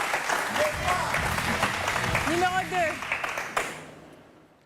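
A crowd breaks into applause while someone speaks over it, the clapping fading out toward the end.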